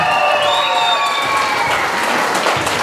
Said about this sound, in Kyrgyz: Бешинчи болуп чыккан биздин бул мырзага бир кол чабуулар болсун